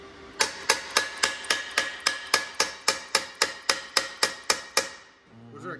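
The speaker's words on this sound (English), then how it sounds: "You gotta hit it with a hammer." Steady, evenly spaced hammer blows ring on the metal of a 4000hp Camaro being cut apart, about fourteen sharp clanks in a row, close and loud, then a brief scrape.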